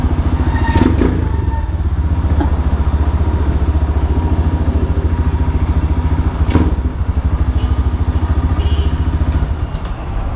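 A RUSI KRY 200cc motorcycle engine runs nearby with a steady, throbbing low rumble that continues throughout, broken by a couple of brief clattering thumps.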